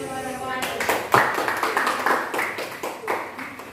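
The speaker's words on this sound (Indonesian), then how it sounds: "Berikan aplaus" A class claps for a group after its presentation, a short round of light, scattered clapping from a small room of students with voices over it.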